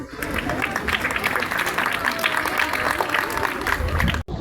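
Crowd applause at a school medal ceremony, continuous dense clapping across the hall with background chatter mixed in, ending with a brief dropout near the close.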